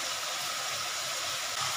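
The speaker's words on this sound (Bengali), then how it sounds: "এবার চালটা আমি ঢেলে দিচ্ছি।" Rice tipped into a pot of boiling salted water, heard as a steady, soft rushing hiss of bubbling water that stays even throughout, with no voices.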